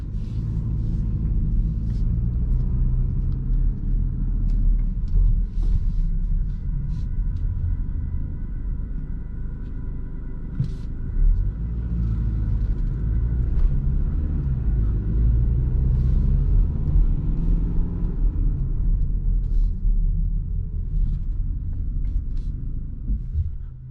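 A BMW X4 xDrive 20d diesel pulls out of a large multi-storey parking garage at night, its low engine rumble steady and enclosed, with faint clicks and tire noise and no talking.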